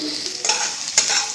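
Garlic is fried in a pan with roasted green chillies. Oil sizzles steadily, broken by a couple of sharp scraping stirs of a spatula, close up and with no voices.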